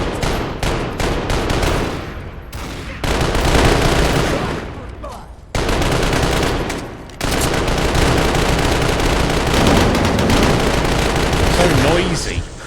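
Rapid bursts of Fallout 4 gunfire, automatic weapons rattling loudly almost without pause, with brief gaps and voices mixed under the shooting.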